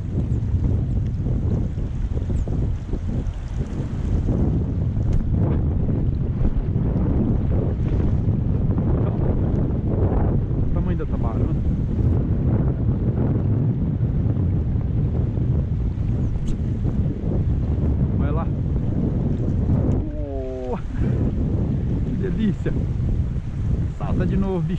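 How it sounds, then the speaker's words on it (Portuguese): Strong wind buffets the microphone in a steady, loud roar on a fishing boat at sea during a trip for giant tabarana, with water and hull noise mixed in and brief voices under the wind. "Olha o vento, olha."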